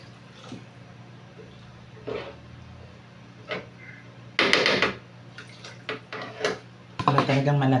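Water poured into a cooking pot holding potatoes and carrots comes in two short, loud splashing bursts with clattering pot sounds between quieter stretches of kitchen background.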